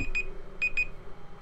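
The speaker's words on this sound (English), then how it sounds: "That's the alarm telling us we're done." Portal's level-complete alarm sounds in short, bright, high electronic beeps, one then a quick pair, clear above a low game background hum.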